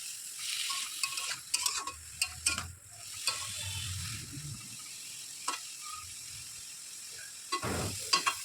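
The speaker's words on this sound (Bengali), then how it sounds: "এবার একটু নাড়াচাড়া করে দেবো।" Food sizzles softly in a pan on a home gas stove while a utensil stirs it, with scattered scraping clicks over a faint, continuous frying hiss.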